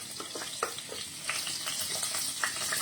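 Amul butter sizzles in hot oil in a pan, a steady crackling hiss dotted with small pops and stirring scrapes, close and continuous with no voices.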